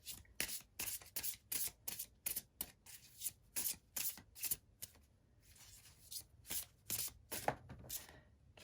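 Samhain oracle cards are shuffled by hand in a quiet room, a steady run of close, crisp riffling bursts with brief pauses between them.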